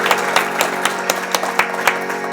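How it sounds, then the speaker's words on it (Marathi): Loud, sharp claps ring out in an even rhythm, about ten strikes, as an audience claps along to a Sanskrit birthday song, each clap crisp and close with a faint musical tone lingering underneath. "टाळ्या जोरात वाजायला पाहिजे."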